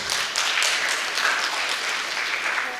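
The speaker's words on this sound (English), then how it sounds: "A round of applause for Dr." An audience at a university international conference applauding, a dense steady patter of many hands clapping at moderate distance with no voices over it.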